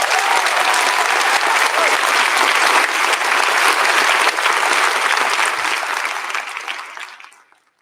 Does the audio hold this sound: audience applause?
yes